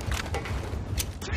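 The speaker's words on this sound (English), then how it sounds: "Changing mag." A magazine change on a weapon in a search-and-destroy match of a shooter video game, heard as quick mechanical clicks and ratcheting rattles, a few short snaps close up over steady game ambience.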